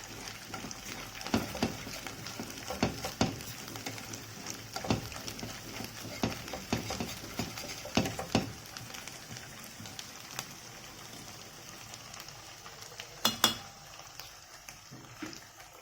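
Onions frying in a pan for koshari give a steady crackling sizzle, broken by occasional metallic clinks and scrapes of a utensil against the pan; no voices.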